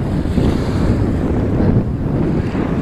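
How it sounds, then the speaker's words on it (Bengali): Waves roll onto the sandy shore of a vast river in the Sundarbans, a loud steady wash of surf mixed with heavy wind rumble on the microphone, with no voices. "ঢেউ আসছে।"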